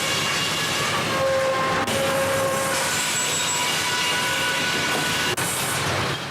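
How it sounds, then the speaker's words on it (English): Sawmill machinery runs in a steady, dense roar like a freight train rushing past, loud and continuous throughout with faint whining tones and occasional clanks, no voices. "the mill sounds and feels like a freight train zipping by"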